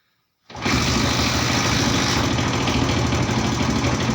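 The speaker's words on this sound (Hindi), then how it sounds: "ये मेरी बाइक स्टार्ट हो चुकी है।" A TVS XL BS6 fuel-injected moped engine catches after a moment of silence and settles into a steady, loud, close idle with a rough mechanical chatter that continues unbroken.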